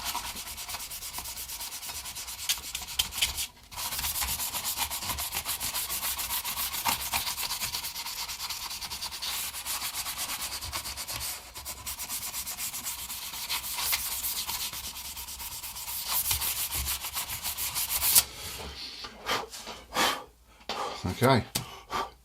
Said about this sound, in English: just want to give it a rub down so you get something for the paint to bite to